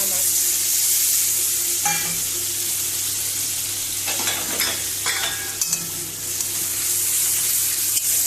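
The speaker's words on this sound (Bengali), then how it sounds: "মশলাটা কষিয়ে নেব, গুঁড়ো মশলা দিয়েই রান্না করবো" Ground spices for a fish curry sizzling and frying in a pan, with steady loud crackle and occasional stirring scrapes throughout, no talking.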